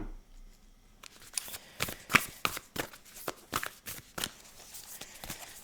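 Oracle cards shuffled for a tarot reading, a run of quick crisp riffling bursts and soft flicks, close and fairly quiet, with no talking.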